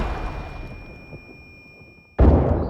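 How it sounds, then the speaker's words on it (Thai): A booming explosion decays into a low rumble, then a second loud blast hits abruptly near the end, explosions in the game Arena Breakout. "ระเบิดเยอะจัง"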